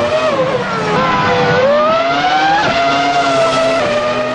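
Red toy Formula One race car sound effect: a loud, continuous engine whine with a rising and falling pitch, steady throughout with no talk over it.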